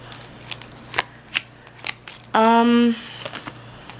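Light card flicks and taps sound sporadically, and a loud tonal voice briefly cuts in midway before the quiet handling resumes.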